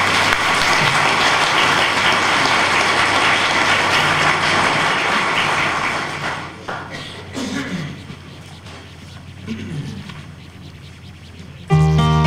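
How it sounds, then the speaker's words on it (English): Broad, sustained crowd applause at a Veterans Day ceremony honoring veterans, loud and dense for about six seconds before thinning into scattered clapping, with a tonal burst at the very end. "let's give our veterans another round of applause"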